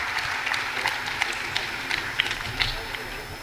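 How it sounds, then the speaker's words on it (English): A conference audience at WCIT 2019 in Universe Hall applauds a final panel, with dense mid-level clapping and scattered louder claps while a voice speaks over it. "One more round of applause for our final panel, please"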